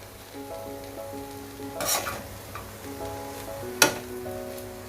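Paneer schezwan noodles with vegetables are stirred and tossed in a hot pan, giving a steady soft sizzle with a few sharper scraping bursts, under faint sustained musical tones.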